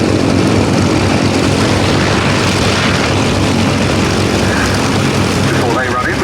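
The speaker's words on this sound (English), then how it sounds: "Before they run in, we've got the 2 Lysanders getting off." Westland Lysander propeller aircraft taking off at the Duxford airshow, a loud continuous engine and propeller drone filling the whole stretch, with crowd or commentary voices mixed underneath.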